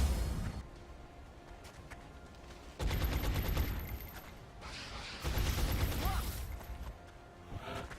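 Sustained suppressive gunfire in XCOM: Long War, two loud bursts of rapid automatic shots with clattering mechanical noise between them, heard alone without talk.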